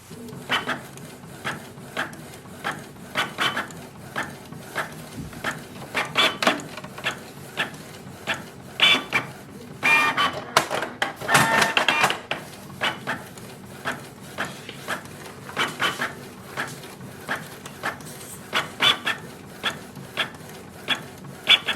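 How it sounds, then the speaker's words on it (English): A Canon Pixma G3160 printer prints a document: rhythmic mechanical clicks and whirring paper-feed strokes repeat steadily, with a louder grinding burst midway, close by and without any talking. "Just wait for the printer."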